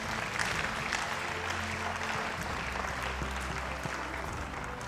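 Congregation applauding for the Lord at a mass prayer meeting, a sustained wash of many hands clapping at moderate distance, steady and even over a low background hum, without talk.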